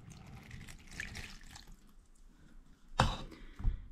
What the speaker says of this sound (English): Now let's test it, of course. Put in some water.